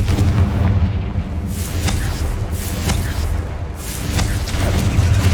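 Confringo blasting spells exploding in Hogwarts Legacy, a string of loud booming bursts over a dense, rumbling combat din that never lets up.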